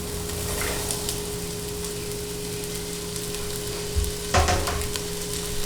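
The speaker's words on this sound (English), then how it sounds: "we're just gonna lightly saute the chopped up scallions, some radish, and snap peas" Chopped scallions, radish and snap peas sauté in olive oil, throwing a loud, close, steady sizzle with a steady hum beneath, briefly stirred with a couple of clattering bumps near the end.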